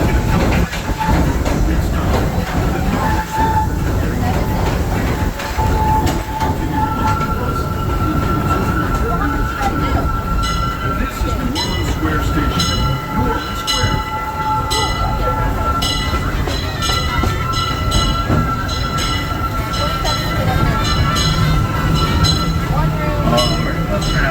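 Disneyland Railroad train rolling along its tracks in the park, with a steady loud rumble and clatter of the cars, faint wheel squeal and a whistle-like tone, mostly without talk.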